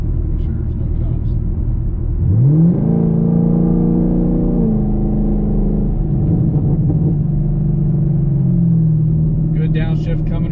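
A 2018 Camaro SS 1LE V8 fitted with an AWE Track Edition axle-back exhaust idles with a deep rumble, then revs up and holds a raised drone before settling back, loud and close throughout.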